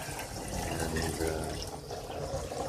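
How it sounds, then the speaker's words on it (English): Water in a barrel aquaponics system runs continuously during a flush cycle, a close, steady gurgling flow like a tap filling a basin. "And we'll end with a little flush cycle."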